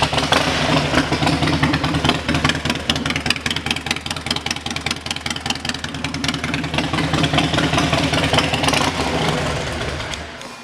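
A 2005 Harley-Davidson Dyna Low Rider with under 26,000 miles and a Vance & Hines exhaust runs loud and close, a deep lumpy idle with throaty blips of revving throughout.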